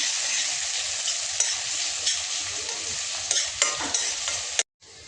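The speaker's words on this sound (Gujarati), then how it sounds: "એમાં આપણે નાખીશું લસણની પેસ્ટ, ત્યારબાદ ડુંગળી કટ કરેલી, હલાવી લઈશું" Garlic paste and chopped onion sizzle and fry in a pan with cumin for Mexican rice, a steady close hiss broken by scraping stirs of a spoon, cutting off abruptly near the end.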